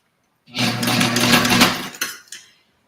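A Sailrite LS semi-industrial sewing machine runs in one steady burst of about a second and a half, a dense close mechanical whir with a low motor hum, then stops with a couple of faint clicks.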